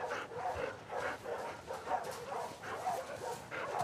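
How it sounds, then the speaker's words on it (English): A dog in The Last of Us 2 giving soft, repeated yips and whimpering barks in an uneven rhythm, close and moderate in volume. "Hey, you crazy dog."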